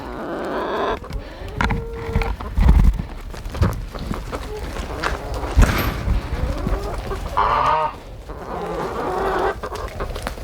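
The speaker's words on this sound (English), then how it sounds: "Hi, chickens." Chickens cluck and squawk intermittently nearby, mixed with footsteps and handling noises, with occasional brief voice sounds.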